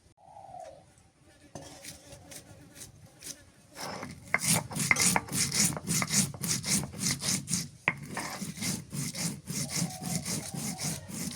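A knife slicing okra into rounds on a board. Rapid, steady chopping strokes come close up and fairly loud from about four seconds onward, with quieter scraping before they start and no talk.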